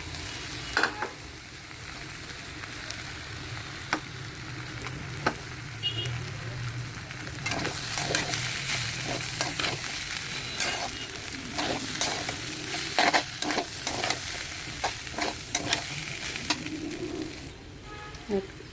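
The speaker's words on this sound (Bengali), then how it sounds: "এখন আমার চালগুলো ভাজা হয়ে গেছে" Rice frying in a pan with garam masala for khichuri, stirred steadily with scraping strokes over a continuous sizzle, close and fairly loud throughout.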